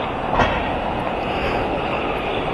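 A London Underground train at Queen's Park station rumbles steadily with broadband rail and wheel noise, close and sustained throughout.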